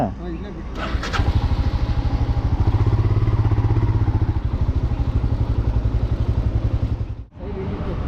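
Motorcycles on a group ride start up with a quick cranking burst and then settle into a loud, close, rhythmic idle that runs for several seconds before cutting off abruptly, with voices nearby.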